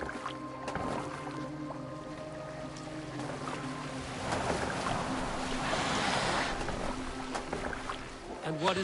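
A boat cutting through water in Assassin's Creed Valhalla, a steady rushing wash of waves and wind with a low hum beneath, swelling midway, with voices talking over it.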